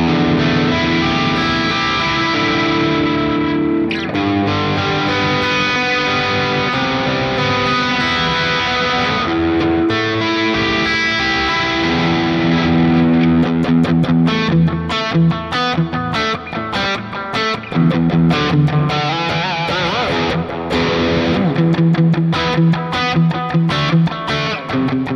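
Electric guitar played through the Neural DSP Plini X plugin on a custom preset, a dense distorted, effects-laden tone with sustained chords giving way to choppier, rhythmic picking in the second half, loud and continuous with no talk.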